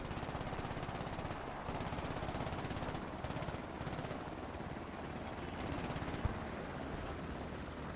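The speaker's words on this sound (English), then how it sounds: "Got a little bit of dogfighting happening up here in the air now" Helicopter dogfight in the military shooter Squad, a continuous throbbing rotor roar layered with rapid, rattling machine-gun bursts, dense and steady throughout with a sharp thump near the end.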